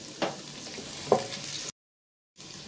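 Chopped onion frying in oil, producing a close, continuous sizzle with a couple of stirring clinks. The sound cuts out to silence for a moment, then the sizzle resumes.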